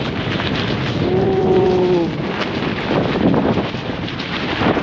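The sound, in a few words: strong wind buffeting a tent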